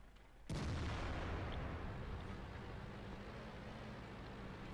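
A single heavy 122mm tank gun shot in the video game World of Tanks, a sudden loud boom followed by a long rumbling decay with no voices.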